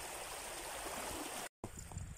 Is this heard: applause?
no